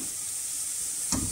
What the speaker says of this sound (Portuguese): Vou botar com a cebola e o alho já tá bem cortadinha para dourar.